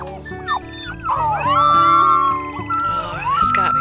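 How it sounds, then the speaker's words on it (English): A wolf howls in the video game WolfQuest 3, long wavering and gliding howl tones layered over steady game music, loud and close. "trying to cheer him up with a howl"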